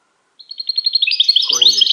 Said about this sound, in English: This is a pretty rare bird to be sighted in California.